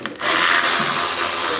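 A Milwaukee battery-powered ratchet spins fasteners on a pit bike, a sustained, close, hissing whir with a mechanical clicking texture following a short thump at the start.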